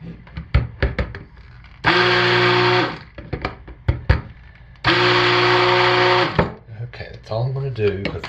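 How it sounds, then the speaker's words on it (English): A stick blender whirs in two loud bursts of about a second each, mixing cold process soap batter with fragrance, with someone talking and clunking in between and a brief lower whine at the end. "Put about a third of our fragrance in with a very quick hit of the stick blender and pour"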